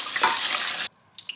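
Tap water pours steadily into a sink as a whole dove is rinsed under it, splashing close and loud for under a second before the flow cuts off, followed by a few faint drips and handling sounds.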